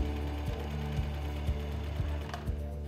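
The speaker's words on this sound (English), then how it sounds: "We're sewing blankets in our sewing class" A sewing machine stitches baby blankets in a school sewing class, running steadily up close with a regular mechanical hum and faint periodic clicks about every half second, alone without any talking.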